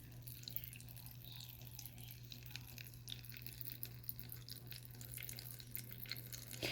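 A tiny washing machine drains dirty water with a faint, steady low pump hum and a soft trickle running underneath, quiet and continuous throughout.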